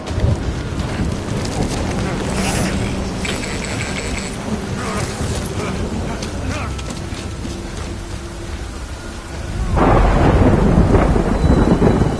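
Heavy rain and a rumbling thunderstorm in the Death Stranding video game, with a steady, dense wash of downpour that swells louder and harsher near the end.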